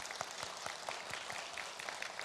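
A Korean church congregation applauds at the close of a Sunday worship sermon, a soft sustained patter of many hands clapping with no speech.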